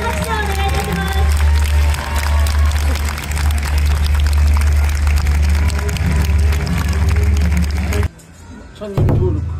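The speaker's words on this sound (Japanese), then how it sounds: "今一度大きな拍手をお願いいたします" A crowd at the Yokohama Chinatown Lunar New Year festival applauds and cheers loudly after a Chinese acrobatic chair-handstand act, with an announcer's voice over it, until the clapping cuts off abruptly.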